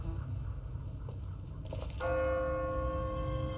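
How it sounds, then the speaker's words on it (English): A church bell in The Walking Dead video game, set in a city and ringing automatically on a timer, strikes a clear sustained tone after a stretch of low rumbling ambience. "What kind of church bell goes off at 20 past the hour?"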